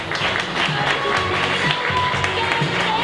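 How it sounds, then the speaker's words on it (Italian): Crowd applause at a golf tournament award ceremony, with steady clapping from a gathered audience running throughout while a voice speaks over it. "un grande applauso"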